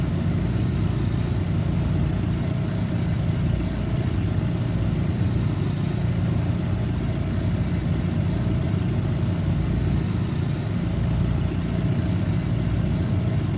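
Simulated car engine on a dyno run in the racing game Assetto Corsa, a naturally aspirated engine being tuned; a steady, loud, dense engine drone holds throughout without pauses.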